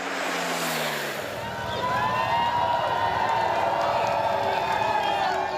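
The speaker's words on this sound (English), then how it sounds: "The motorcade swept past cheering crowds on Whitehall" Crowds cheering along Whitehall outside Downing Street in London as a presidential motorcade sweeps past, a steady distant roar of cheers mixed with passing vehicle noise.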